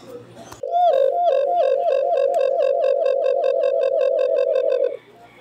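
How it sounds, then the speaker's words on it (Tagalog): An alimokon dove gives a loud, close, drawn-out call, a rapid string of repeated coos running without a break for about four seconds before stopping abruptly. "Importante talaga na marunong ka sa tatlong huni ng alimokon"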